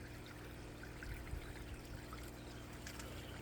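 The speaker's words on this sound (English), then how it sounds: "the large flood and drain grow bed up is filling back up again" Pump-fed water pours steadily into a large flood and drain grow bed with a faint, continuous trickling gurgle. No voices are heard.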